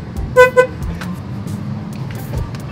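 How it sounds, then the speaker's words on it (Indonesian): Two short, loud blasts of an angkot minibus horn in quick succession, followed by quieter background noise. "kalau ini cuma menghidupin klakson"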